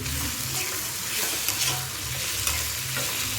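Potato pieces tumble into a pan of frying tomato and onion curry, setting off a steady broadband sizzle with soft stirring scrapes and low clatter throughout, close and fairly loud, with no voices.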